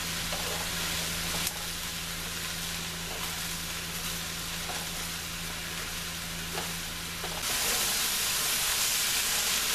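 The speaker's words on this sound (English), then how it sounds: "I'm going to let this simmer for a while" Vegetable korma simmering in a pan, a soft continuous sizzle and bubbling hiss with a faint low hum, shifting slightly louder and brighter near the end.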